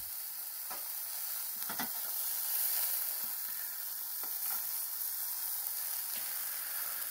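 Sausages sizzling over embers, a steady bright hiss of frying fat throughout with occasional soft pops and crackles, close and even in level.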